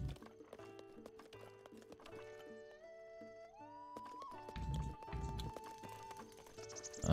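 Horses in The Legend of Zelda: Breath of the Wild clip-clop in scattered hoofbeats, with a gliding whinny-like tone and game music layered over the scene.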